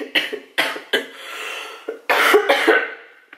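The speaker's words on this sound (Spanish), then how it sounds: "no me puedo reír sin toser" Several harsh coughs in uneven bursts, close and fairly loud, with a longer rough coughing fit toward the end.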